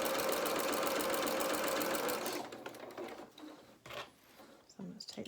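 Chain piecing fabric pieces, a sewing machine runs steadily and loudly up close for about two seconds, then stops, leaving quieter handling clicks and rustles.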